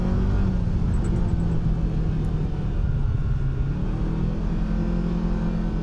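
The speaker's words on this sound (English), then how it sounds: "Let's go test out the Teryx KRX." A 2026 Kawasaki Teryx KRX4 1000 eS side-by-side with a CVT driving along, giving a loud, steady engine rumble and road noise throughout, close up with no talk.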